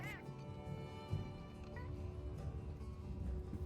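A Palico cat companion in the video game Monster Hunter Wilds gives a soft, rising meow at the start and a shorter mew a moment later, both faint over a low, busy game background.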